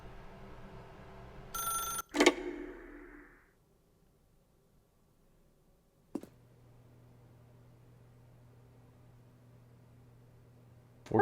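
A telephone bell in The Stanley Parable video game rings in a short burst, then a sharp click breaks it off. Near-silence follows until another click brings a steady low hum.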